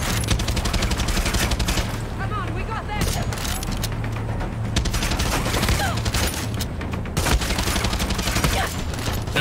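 Rapid sustained gunfire in the shooter game Far Cry 6, a dense rattle of automatic shots with heavy impacts and booms, loud and continuous across the scene, with brief voices mixed in.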